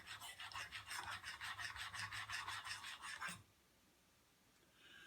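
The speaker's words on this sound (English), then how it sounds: "run the blade back and forth on this hone" A swivel knife blade rasps rhythmically back and forth on a diamond hone, about a dozen quick, close strokes, then stops and leaves near silence.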